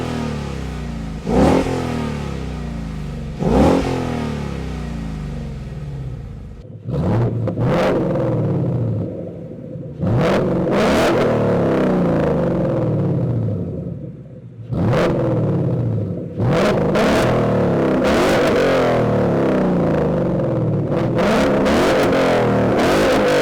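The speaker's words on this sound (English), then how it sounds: "here's a sound clip of this catback on our 2015 GT" A 2015 Ford Mustang GT fitted with a Gibson catback exhaust revs hard in repeated bursts, each throttle blip rising and falling with a raspy, aggressive roar, close and loud with no talk.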